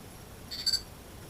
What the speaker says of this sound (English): A couple of beeps go on back and forth between them.